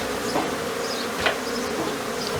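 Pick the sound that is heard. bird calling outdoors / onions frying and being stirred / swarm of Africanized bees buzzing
swarm of Africanized bees buzzing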